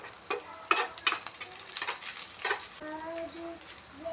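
Dried prawns fry in a pan until golden, a close crackling sizzle punctuated by quick scraping stirs, ending in a sustained hiss, with no voices.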